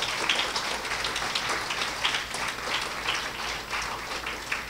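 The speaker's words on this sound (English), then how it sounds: "I would ask you to give them a round of applause at this time." Audience at a school graduation ceremony claps in a dense, continuous patter, a steady wash of many hands that holds level throughout without letting up.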